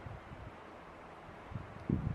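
Wind rumbling and buffeting against the microphone outdoors in the Desolation Wilderness, low and fairly soft, with a stronger gust toward the end.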